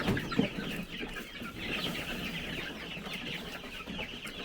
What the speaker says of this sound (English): These are roosters.